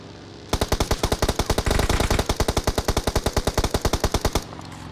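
Rapid automatic gunfire from a shooting video game, a loud, steady stream of evenly spaced shots rattling for about four seconds before cutting off, with no talk over it.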